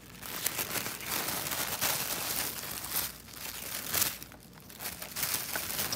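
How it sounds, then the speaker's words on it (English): Sparkly tissue paper crinkling and rustling as it is unwrapped from a diamond painting pen package, a continuous close crackle with brief louder crunches. "Beautiful sparkly tissue paper."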